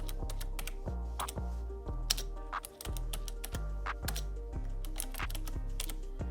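Steady typing on a Razer gaming keyboard, a dense run of crisp key clicks with periodic heavier thocks, close and fairly quiet, with no voices.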